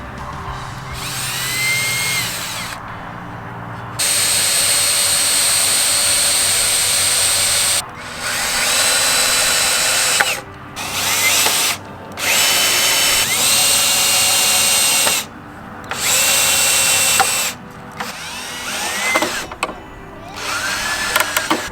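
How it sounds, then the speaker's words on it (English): A power drill whines in repeated bursts, stopping and starting as it pre-drills holes in wooden boards for a raised garden bed, loud and close with brief pauses between runs. "So I'm gonna go ahead and pre-drill my holes for these first boards"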